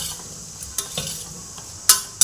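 Beetroot masala curry stirred in a pan with a spoon, soft scraping over a faint sizzle, with a few sharp clinks of utensil on pan, close and with no talking.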